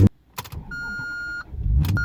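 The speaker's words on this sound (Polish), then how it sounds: "Najpierw jeszcze raz posłuchajcie rozrusznika." Maserati GranTurismo 4.2 V8 being started: a short click and whirr, then a steady electronic tone held for under a second. A brief cranking burst follows near the end, fairly quiet and close, with no voices.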